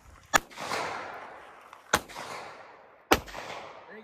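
Three sharp firearm gunshots, spaced about one to two seconds apart, each ringing out with a short echo at close range, with no talk over them.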